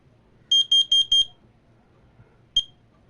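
A loud smoke alarm lets out four rapid, piercing high beeps in a row, pauses, then gives one more beep, close and clear against a quiet room.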